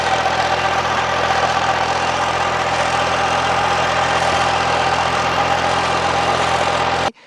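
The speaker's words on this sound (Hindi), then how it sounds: "मज़ेदार तरीके से ट्रैक्टर भी एकदम बिंदास चल रहा है" A tractor engine runs steadily at idle with no load, a continuous low rumble with a mechanical hum, close and loud, then cuts off abruptly at the end.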